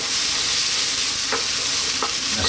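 Garlic ginger paste sizzles loudly and steadily in a hot pan for a vegan mustard leaf curry, a dense frying hiss with a couple of short scraping stirs partway through.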